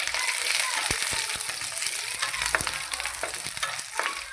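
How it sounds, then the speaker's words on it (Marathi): Grated coconut sautéing with ginger and garlic in a pan, a steady close sizzle with frequent sharp ticks and scrapes of stirring, no voices. "ह्या खोबऱ्याबरोबरच आपल्याला हे परतून घ्यायचं"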